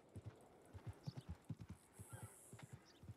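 Rhythmic hoof clip-clops of a video game horse in Red Dead Redemption 2 roleplay walking at a steady pace, quiet and close, with a brief high whinny-like tone partway through.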